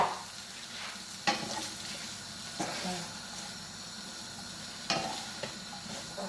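Butter beans and cabbage frying in a pan for a Jamaican-style vegan dish, giving a steady soft sizzle broken by a few sharp clinks of stirring.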